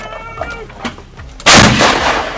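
Tank cannon fired by Ukrainian forces in Kherson, one heavy, sharp blast near the end that booms loudly and rolls on with a long rumbling tail, preceded by quieter background noise.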